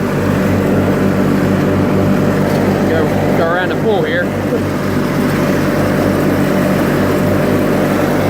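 A 1986 John Deere 318 lawn tractor mows with a constant, close engine drone and steady hum; someone briefly speaks over the motor partway through.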